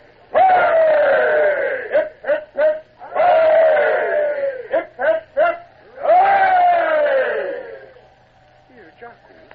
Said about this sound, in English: And 3 cheers for the King